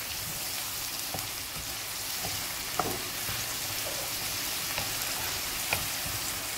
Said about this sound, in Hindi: पाँच मिनट हो गए हैं मुझे कीमे को भूनते हुए